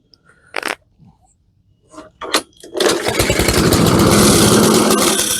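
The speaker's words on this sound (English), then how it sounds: "let me just show you the normal operation, and you could listen to the engine while we do that" A small gas self-propelled MTD Pro lawn mower engine with Honda motor, damaged after hitting a stump, sputters a few times, then catches and runs steadily and loudly with a rough, buzzing idle until the end.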